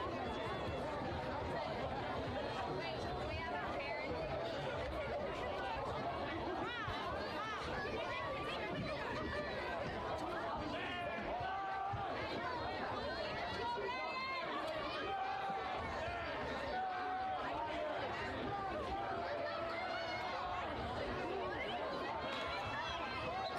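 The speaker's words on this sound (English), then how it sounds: "A fired up and happy Bulldogs crowd here at South Algeria Field, as you can hear." A fired-up home crowd fills the stands at a Westerly Bulldogs varsity high school football game at South Algeria Field, with steady crowd chatter and babble and scattered voices rising over the stadium noise.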